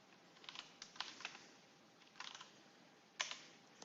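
Scattered keystrokes as a command is typed on a computer keyboard: quiet, close clicks in short irregular bursts with pauses, ending on one sharper tap.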